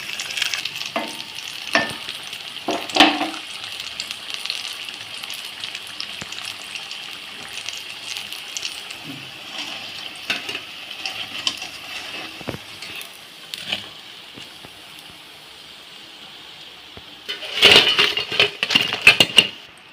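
Chilli bajji deep frying in hot oil gives a continuous close sizzle and bubbling, broken by occasional clinks and scrapes of a utensil stirring and lifting the fritters, louder near the end.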